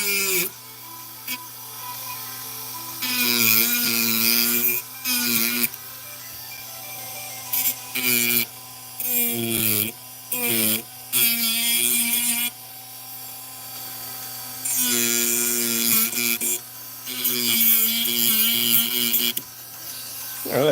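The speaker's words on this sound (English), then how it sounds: "little grind wheel back on" A small grinding wheel works on a piece up close, cutting in and out in bursts of several seconds each, with a steady motor hum running underneath.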